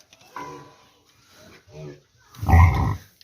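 A pig on a village farm grunts in a series of short, close, rough snorts separated by pauses, the final one longest and loudest.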